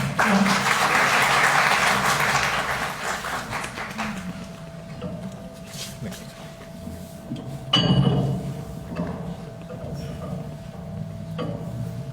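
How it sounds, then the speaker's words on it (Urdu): Audience at the Lahore Press Club applauds to welcome a speaker, loud dense clapping for about four seconds that fades into scattered claps, shuffling and room noise, with a brief knock and another short burst later. "بھرپور تالیوں میں استقبال کیجیے گا"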